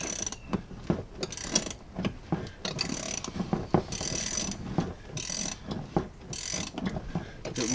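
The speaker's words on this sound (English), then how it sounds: "we'll take the ratcheting wrench, so that we're not here all day" A ratcheting wrench clicks in rapid bursts as it spins a front shock absorber nut off a 2004 Chevrolet Suburban during a Bilstein 4600 shock install, a close, dry ratchet rhythm that runs in repeated strokes with short pauses.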